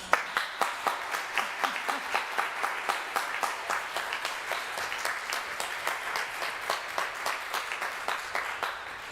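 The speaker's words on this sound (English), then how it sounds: "So thanks for that applause for her." A church congregation at a Sunday service gives sustained applause, a steady wash of many hands clapping at moderate volume for several seconds.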